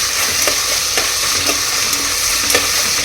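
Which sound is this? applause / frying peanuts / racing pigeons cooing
frying peanuts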